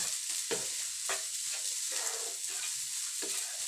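Rice with turmeric being stir-fried in a pan: a continuous loud sizzle broken by repeated scraping strokes of a utensil about every half second, heard close up with no talk.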